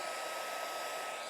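A crafting heat tool blows a steady, even hiss of hot air while it melts embossing powder, with no talk and quiet surroundings.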